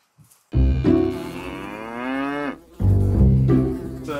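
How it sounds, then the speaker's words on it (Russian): Cattle on an Italian farm in the Dolomites moo loudly and close by, one long drawn-out call followed by a second lowing moo, with no talk over them. "Сейчас будем доить коров."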